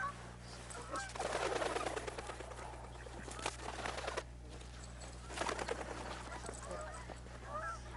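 Geese honk repeatedly in loose bursts over a steady low hum, with birdsong and scattered waterfowl calls mixing in the distance at a wildlife refuge.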